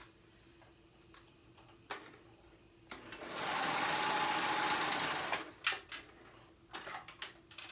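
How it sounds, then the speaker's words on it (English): A sewing machine runs in one steady, loud burst of fast stitching for about two seconds, with quiet handling clicks and taps before and after. "I'm using my cover stitch for this step."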